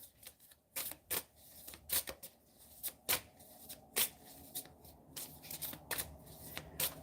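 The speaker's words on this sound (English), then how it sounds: "So this Dead Inside deck is fun. We're going to shuffle it up" A deck of oracle cards gets shuffled by hand, producing sharp, irregular riffling bursts about once a second, close and crisp, with no talking.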